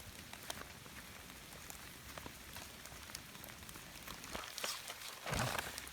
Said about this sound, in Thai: ฝนตกทั้งวันยังไม่หยุดเลยครับ